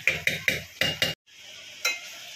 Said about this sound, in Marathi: गरम पाणी ह्याच्यामध्ये टाकून घेते आणि हे परत मिक्स करून घ्यायचं आहे छान.